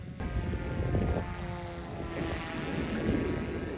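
A propeller-driven FPV flying wing plane flies overhead, its motor giving a steady buzzing drone with airy rushing noise that holds at a fairly even level, with no voices.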